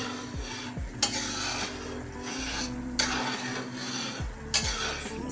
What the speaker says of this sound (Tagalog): Haluin lang kasi malapit na siyang maglabas ng mantika.